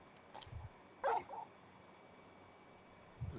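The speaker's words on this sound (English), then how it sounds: "You're just a big puppy, aren't you?" Torgal, a large video-game dog, gives a faint, brief whimper and a few soft yips, with quiet gaps between them over a low background hiss.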